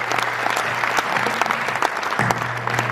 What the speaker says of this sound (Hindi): पूरा सदन तालियां बजाकर उनका अभिनंदन करे